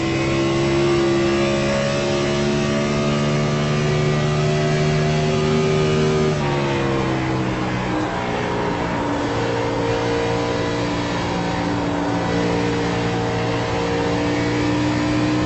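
A race car engine in the iRacing sim, a newer-generation stock car, holds a loud, steady high-revving drone, then drops pitch sharply around the midpoint and settles into a lower sustained roar. No one talks over it.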